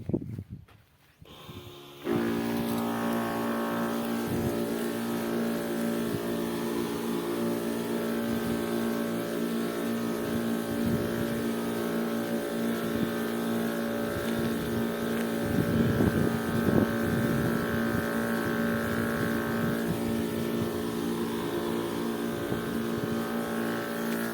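An engine-driven pesticide spray pump in a sesame field starts up after a brief rattle, then runs as a steady, even mechanical drone for over twenty seconds, with a slight rise in roughness partway through.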